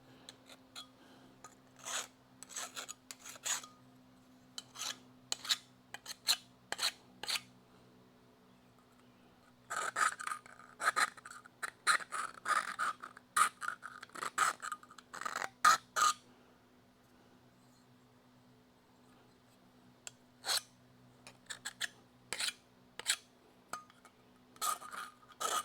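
A compound file deburrs a hole in metal during a car restoration, giving short bursts of scraping rasps with quiet pauses between them, heard close and without talk.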